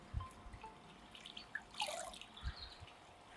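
Water drips and trickles faintly while a fishing reel soaks in soapy water, with a few soft low plops and light splashes spread over a few seconds in a quiet room.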